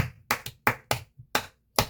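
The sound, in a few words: applause, audience clapping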